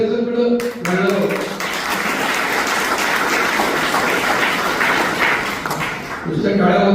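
A seated audience at a public gathering in Pune claps together in a sustained, dense burst lasting several seconds, with a speaking voice briefly heard before and after the applause.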